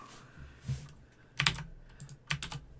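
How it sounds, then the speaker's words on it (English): Soft keystrokes tap on a computer keyboard in short irregular bursts, close and quiet against a faint background hum. "Listen to my typing."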